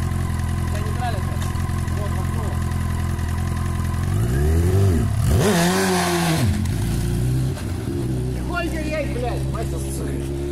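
A Honda Fireblade 929 motorcycle engine idles loudly and steadily nearby, with a brief blip of revs in the middle before settling back to idle.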